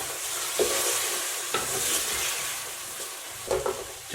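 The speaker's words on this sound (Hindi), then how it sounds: "हमारा चिकन जो है फ्राई हो गया" Chicken sizzles in a pan for a village-style masala pasta, a steady close frying hiss broken by a few sharp scrapes and clinks of a spoon stirring, with no talk.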